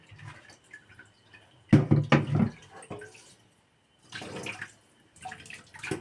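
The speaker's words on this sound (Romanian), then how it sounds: "Și acum le pun apă." Water is poured in short splashing bursts into a cooking pot, with quiet pauses between the pours.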